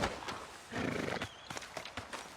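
A horse in Red Dead Redemption 2 whinnies near the railway tracks during a train robbery, a short neigh over a few hoof clops and ambient game noise.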